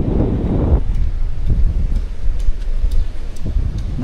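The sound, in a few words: strong wind at a beach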